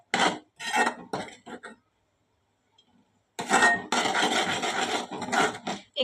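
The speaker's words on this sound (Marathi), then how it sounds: "एक 5 मिनिटं परतून घेऊ" Mixed vegetable masala stirred and sautéed in a pan, giving bursts of scraping and rubbing clatter with a quiet gap in the middle, then a longer stretch of steady stirring close by.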